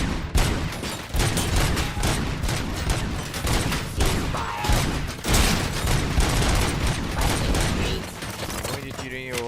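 Dense, rapid gunfire crackles nearly nonstop with heavy booms and mechanical clatter, loud and close throughout, in the video game RoboCop: Rogue City.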